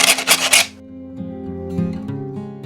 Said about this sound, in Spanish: voy a lijar un poco el borde para que no quede el canto este tan